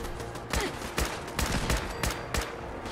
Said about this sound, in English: this friggin' turret needs to go